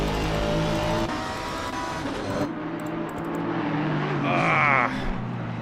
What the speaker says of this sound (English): Scraping along the wall.